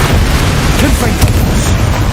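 The Confringo explosive spell in Hogwarts Legacy erupts as a loud, dense boom with rumbling low-end noise sustained across two seconds, a sharp crack near the middle.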